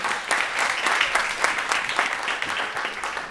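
A crowd applauds at a community gathering, dense steady clapping close and loud throughout with no pause, a few voices faintly mixed in.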